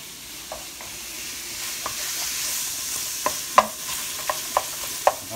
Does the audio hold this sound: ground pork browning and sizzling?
yes